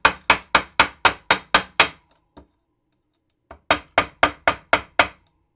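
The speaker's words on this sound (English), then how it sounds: "we'll go ahead and hammer that back out" A metal earring piece is hammered out in two bursts of sharp, evenly spaced strikes, seven or eight close ringing blows each, separated by a pause of near silence.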